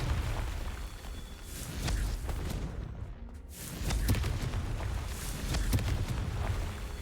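Explosive blasts from the Confringo fire spell in a wizarding video game, a series of booming bursts repeating every second or so, fairly loud, with a brief near-silent pause midway.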